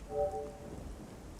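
Faint, steady rain hiss fills the GM_Construct_Rainy map in Garry's Mod, a soft, even wash of falling water with a brief tonal blip near the start.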